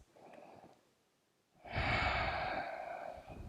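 Slow, audible breathing during a yoga half splits pose: a faint breath at first, a quiet pause, then a long, full exhale sigh close to the mic.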